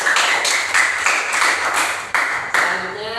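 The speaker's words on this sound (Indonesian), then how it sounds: "Tepuk tangan untuk kita semua nih." A classroom of students claps together in dense, lively applause that comes in several quick surges and lasts about three seconds before fading.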